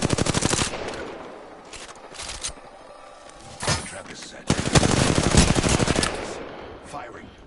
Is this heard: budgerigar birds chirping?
no